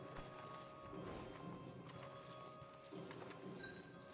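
Horse hooves walking in Red Dead Redemption 2, a stallion being led along, with soft steady clip-clop footfalls under a continuous game ambience of wind and background tones.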